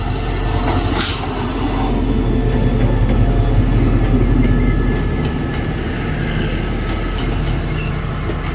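Thai passenger train rolling along the rails, a continuous rumbling clatter with hissing and a few sharp metallic clicks, heard from on board at steady loudness without talk.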